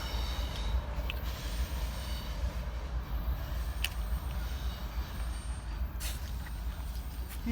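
A train rumbles steadily past, a loud continuous roar of wheels and cars, with occasional high squeals cutting through.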